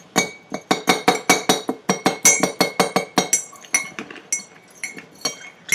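A spoon stirs a cup of green tea, clinking rhythmically and briskly against the cup's sides in a rapid series of close, bright taps that slows and becomes more irregular toward the end.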